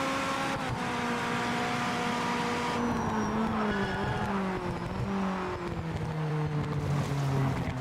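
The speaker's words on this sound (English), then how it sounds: "Why do all the cars whistle?" Race cars in the video game Project Motor Racing, their engines giving off a steady high-pitched whistling whine over a rising and falling engine drone with occasional tire noise, continuous and fairly loud with no talking.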